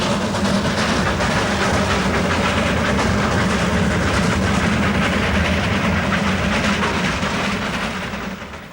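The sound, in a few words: Himalayan toy train with B-class engine running on rails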